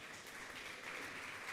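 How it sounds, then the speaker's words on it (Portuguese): Faint, distant applause from a church congregation during an evening worship service, a steady wash of clapping lasting under two seconds. "e dar um aplauso ao Senhor nessa noite"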